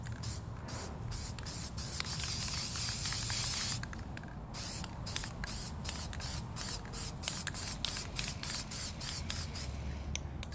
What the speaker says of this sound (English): I'm gonna line these up and give them a spray.